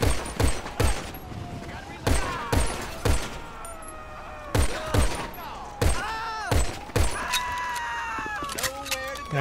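A GTA V LSPDFR shootout goes off in sharp bursts of close gunshots, several volleys spread over the stretch, while voices talk and shout between and under the shots.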